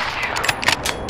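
A short flurry of gunshots from the video game Modern Warfare, with several sharp cracks in quick succession over a noisy background.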